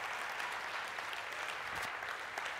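A church congregation claps hands together in steady, continuous applause, dense and fairly distant, with no speech over it.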